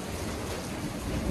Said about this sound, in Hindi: अच्छी बरसात हो रही है।